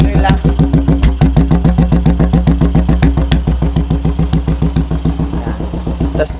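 A Royal Enfield Classic 350 built as a custom bobber idles close by, its single-cylinder engine thumping in a loud, steady, even beat for several seconds.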